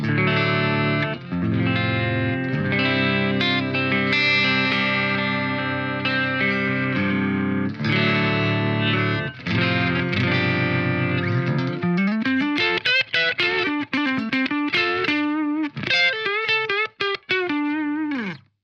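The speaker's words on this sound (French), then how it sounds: "Son clair sans effet." A Sainte Phoenix electric guitar on a clean tone with no effects plays sustained chords, then quicker picked single notes and bends, loud and close, alone without talk.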